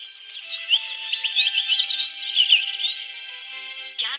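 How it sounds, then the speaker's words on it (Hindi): Bright, rapid bird chirps and twittering trills in a Doraemon cartoon ring out in quick bursts, fairly clear and alone, ending with a short sharp click. "दूर से आती है चिड़िया की आवाज।"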